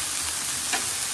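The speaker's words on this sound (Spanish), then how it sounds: "Y ahí vamos a poner nuestra cebollita picada para que se sazone." Chopped onion sizzling in a hot pan, a steady close frying hiss throughout with a brief louder crackle near the end, no voices.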